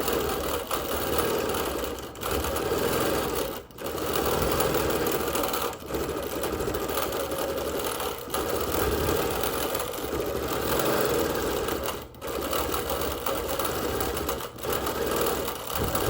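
Sewing machine stitching a background meander quilting pattern on wool, running in steady whirring bursts with short pauses every couple of seconds, close and moderately quiet.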